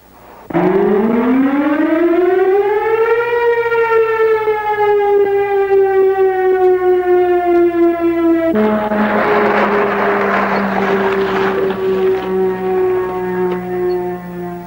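A loud, wailing fire station siren calling volunteer firefighters winds up in pitch, holds, then slowly falls while rushing noise joins in; one long continuous blast with no talking.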